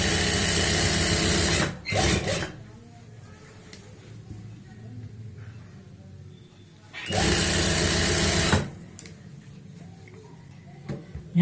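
A sewing machine stitching pants toward the zip point whirs loudly in two bursts of about two seconds each, separated by a quieter stretch of soft handling noise and faint talk.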